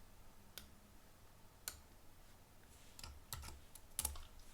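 Sparse computer-keyboard keystrokes from entering a spreadsheet formula, a handful of isolated clicks spaced irregularly with a short cluster near the end, faint and close against a quiet background.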